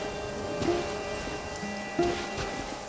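Steady rain falling in the video game Genshin Impact, a continuous soft hiss of drops spread across the scene, with faint tonal game sounds and a few brief thuds over it.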